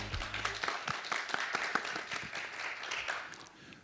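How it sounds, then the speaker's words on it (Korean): Warm applause from a forum audience welcoming panelists to a discussion on online exports for small businesses, scattered individual claps merging into moderate clapping that fades toward the end, with faint low rumble beneath. "여러분 따뜻한 박수로 환영해 주시기 바랍니다."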